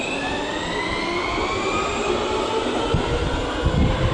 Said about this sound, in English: we're now going to hop on the metro to take us to our hotel